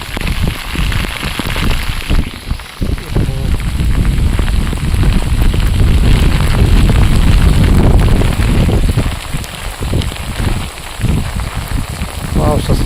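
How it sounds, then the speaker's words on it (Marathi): Heavy rain pours down steadily at a dam, a dense continuous roar with gusts of wind buffeting the microphone throughout. "खतरनाक पाऊस"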